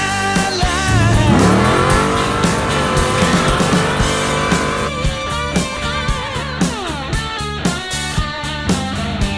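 A 1955 Chevy with a pump-gas 496 big-block V8 is driven, its engine pitch sweeping up and down through loud revs and shifts while a pounding music track plays over it.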